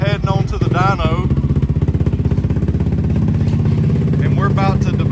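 Yamaha Raptor 700R 2020 ATV engine running steadily at a loud, even idle-like thrum with a rapid pulsing beat, close by, while someone talks over it.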